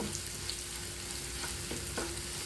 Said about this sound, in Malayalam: നമുക്ക് നമ്മളെ ഉണക്കമുളക് പൊടിച്ചിട്ട് കൊടുക്കാം